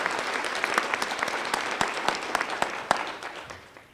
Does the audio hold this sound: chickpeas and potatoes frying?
no